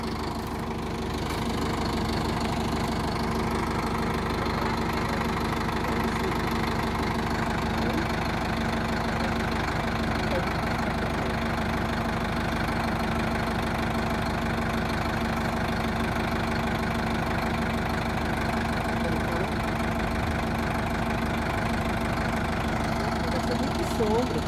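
A tractor engine runs steadily at working revs while hitched to a farm implement, a constant mid-low drone with a faint knocking texture throughout, close and unchanging, with no talk over it.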